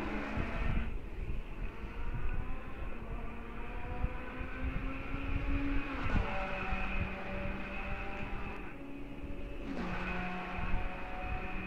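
Race car engines roar in a racing video game at Monza, a sustained whine with pitch that climbs, drops sharply at gear shifts and climbs again, loud and continuous, with no talking.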